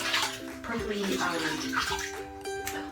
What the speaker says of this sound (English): jump in some hot water full of bubbles